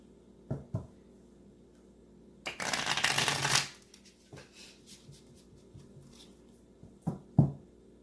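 A small Sun and Moon tarot deck is shuffled once in a quick, riffling burst, close and fairly quiet, set between soft handling taps and light knocks on a table.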